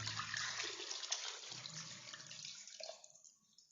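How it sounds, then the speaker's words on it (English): Water pours from a container into a pot of Mangalorean chicken curry with masala paste, a steady splashing gush that thins and fades away near the end. "And we'll also add this water."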